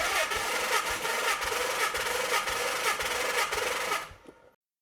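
A Nissan 300ZX Z32 with a twin-turbo VG30DETT engine cranks on the starter with the throttle held open during a cylinder compression test, a loud, steady whirring churn with rhythmic pulses, nearby, that stops abruptly.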